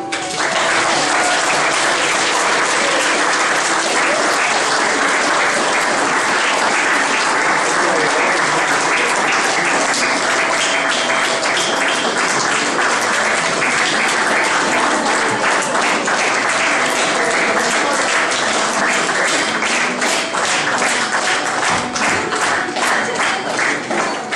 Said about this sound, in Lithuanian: Dabar manau, kad garsiai plojam